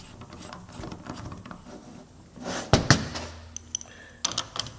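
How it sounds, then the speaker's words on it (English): A ratchet snugs down the nozzle on a Lanair oil burner: a few sharp metallic clicks come close up near the end, over a steady background hum and faint handling noise. "just tighten it a little bit with the ratchet"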